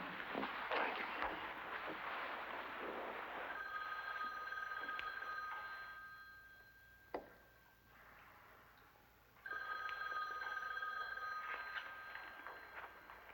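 A telephone bell rings in two long, steady bursts separated by a pause, set against faint background noise.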